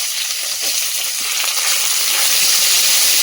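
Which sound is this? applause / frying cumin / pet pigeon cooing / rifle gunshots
frying cumin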